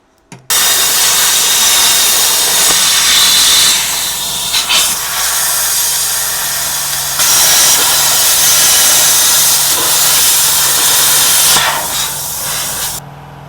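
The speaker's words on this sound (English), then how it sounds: "There, I'm gonna drill them holes out." A loud, steady high-pitched hiss of a drill boring holes through metal, running almost continuously with a few brief dips and pauses.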